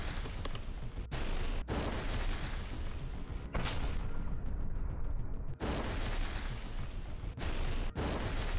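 FAB aerial bomb strikes detonate as a series of heavy, booming blasts with rumbling low ends. Several cut in sharply and roll on between short gaps, loud and distant-sounding, with no voices.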